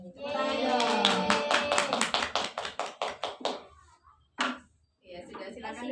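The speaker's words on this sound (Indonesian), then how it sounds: "Tepuk tangan dong." Classroom applause during a high school microteaching lesson on trigonometric functions, a burst of many hands clapping for a few seconds that thins into scattered claps, then a lone clap and a student's voice.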